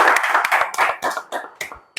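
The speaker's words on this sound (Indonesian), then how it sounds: "tepuk tangan dulu dong teman-teman dong" A small group clapping their hands, quick uneven claps close by, rapid at first and then thinning into a few separate claps.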